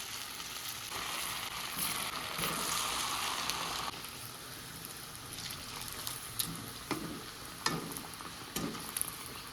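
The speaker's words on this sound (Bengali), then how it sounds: "এবার এগুলো আমি তেলে এখন দিয়ে দিচ্ছি" Steady, soft sizzling of food frying in oil, with a few sharp pops and crackles toward the end.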